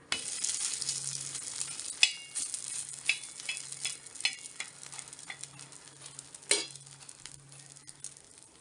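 Drumstick leaves adai cooking on a hot pan with a steady sizzle, plus scraping and a few clinks from the spatula as it is flipped, with one sharp knock partway through.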